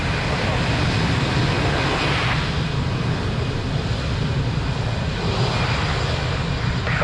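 A jet airliner takes off from runway 02 at Lisbon Airport, its engines giving a loud, steady roar that holds for several seconds.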